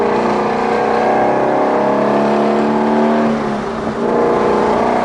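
Shelby GT350R sports car pulling out of the pit lane onto the Road America circuit, its engine loud and close, with a steady harmonic drone that rises through the gears and briefly dips before climbing again.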